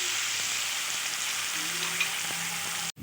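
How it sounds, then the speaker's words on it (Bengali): Potatoes seasoned with salt and turmeric fry in a pan with a steady, close sizzle that runs throughout, a few soft stirring clinks rising briefly near the end. "দিয়ে দিচ্ছি নুন, হলুদ দিয়ে আলুটাকে নেড়ে চেড়ে"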